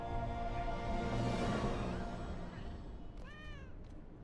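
A cat meows in the game Ark Survival Evolved Ascended, a short rising-falling call near the end of the clip, after a stretch of game noise and a person talking.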